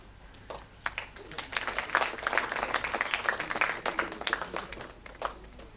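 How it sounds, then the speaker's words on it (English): An audience greets a guest at a memory record attempt with applause that swells from a few scattered claps into a dense round of clapping, then tapers slightly near the end. "Please welcome him with a huge round of applause, Mr. Mohammad Faisal"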